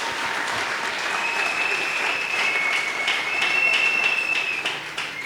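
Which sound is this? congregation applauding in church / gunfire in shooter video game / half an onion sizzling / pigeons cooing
congregation applauding in church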